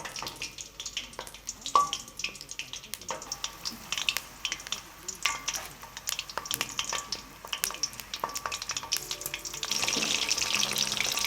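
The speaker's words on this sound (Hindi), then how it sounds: "अब एक कढ़ाई में घी गरम करें और मिर्चों को आराम से आहिस्ता आहिस्ता तल लें।" Bell peppers frying in hot ghee in a kadhai give a steady, close crackling sizzle with intermittent spoon scrapes and clinks, the hiss brightening toward the end.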